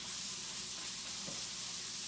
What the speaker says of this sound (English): I'm going to let the bacon cook for another couple minutes.